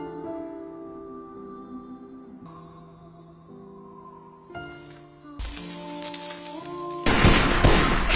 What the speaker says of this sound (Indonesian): Samir dan Maya ditembak habis-habisan oleh anggota FBI hingga tewas.